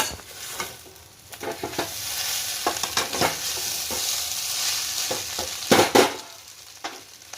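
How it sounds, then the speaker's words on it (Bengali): Chow mein being stir-fried with fried egg and red capsicum, loud crackling sizzle with repeated scraping and clattering strokes of a spatula in the pan, close and busy throughout. "চাউমিন ভাজা হয়ে গেছে মোটামুটি এবার দিয়ে দিচ্ছি ডিম ভাজা আর একটু ক্যাপসিকাম আছে"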